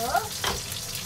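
Bacon frying in a pan while spaghetti is cooked, a close, steady crackling sizzle with brief scraping stirs.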